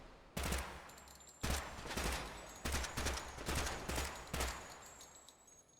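Bursts of rapid gunfire in a shooter video game firefight, about five loud volleys in quick succession with brief pauses between, each one sharp and full of crackle.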